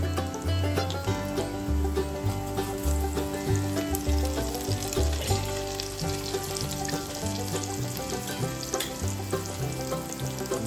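Crushed garlic frying with caramelized onions in a pan, a steady close sizzle with occasional stirring clinks, no talking.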